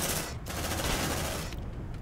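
A squad lets loose in Aliens: Dark Descent, a brief dense fusillade of rapid automatic gunfire, close and continuous for about two seconds.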